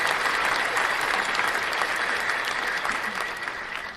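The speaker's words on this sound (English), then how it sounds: "let me give y'all a round of applause" A crowd of listeners at a live podcast episode applauds, broad steady clapping that holds strong through most of the stretch and then slowly tapers toward the end.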